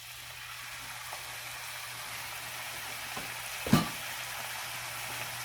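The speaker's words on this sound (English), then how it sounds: "I'm going to go ahead and add my green chilies." Green chilies hit a hot frying pan for a carne guisada, giving a soft steady sizzle with one sharper crackle near the end, close and fairly quiet, without speech.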